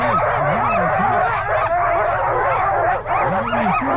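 Sled dogs bark and yip over a steady crowd hubbub at the Kuskokwim 300 start line in Alaska, with repeated nearby barks rising in quick bursts throughout.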